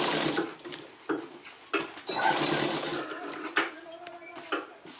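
A sewing machine stitching trousers runs in rapid mechanical bursts broken by short pauses and sharp clicks, close and fairly loud, while a voice talks now and then underneath.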